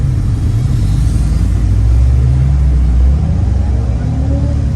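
A drift car engine roars loudly and continuously from inside the cabin during a tandem drift at a drifting event, a heavy low rumble with shifting revs throughout.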